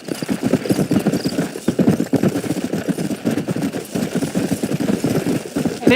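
Horse hooves clop in rapid, continuous rhythm in the video game Red Dead Redemption, loud and close, with scattered gunfire and a faint whinny mixed in.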